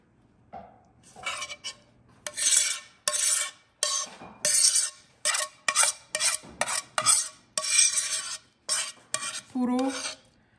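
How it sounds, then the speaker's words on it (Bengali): A spoon scrapes and rasps in a pan as whipped cream and yogurt are stirred into barbecued chicken for butter chicken. The strokes come in a steady, close rhythm of short bursts, with no talk. "এখন এর মধ্যে অ্যাড করব ক্রিম আর দইটা, যেটা ফেটিয়ে রেখেছিলাম আগে, সেটা পুরো অ্যাড করে দেব।"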